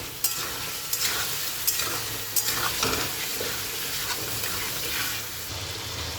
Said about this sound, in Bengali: আমি আরেকবার নেড়ে দেবো।